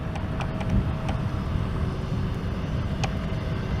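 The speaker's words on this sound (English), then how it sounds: "another lander from San Francisco A321" Airbus A321 airliner landing, a steady loud engine roar with rushing wind noise, broad and sustained throughout, no talking.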